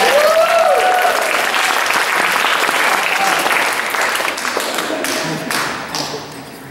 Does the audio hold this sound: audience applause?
yes